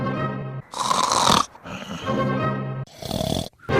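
Snoring in three loud, rasping breaths, linked to the tongue falling back and narrowing the airway during sleep as in sleep apnea. The breaths are close, with brief quieter gaps between them.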